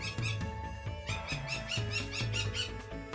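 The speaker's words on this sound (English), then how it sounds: "Do you hear this bird laughing at me?" A pet bird gives a rapid series of shrill, chattering calls that sound like laughter, close and fairly loud over a steady low hum.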